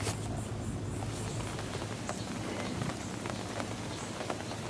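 Rain beginning to fall over a lake, a steady soft patter of drops spread across the whole scene with a low background hum underneath, no voices.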